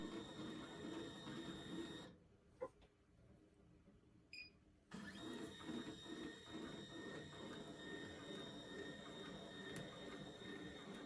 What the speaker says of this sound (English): turn on the machine, and test it by moving the sewing head from 1 to 15.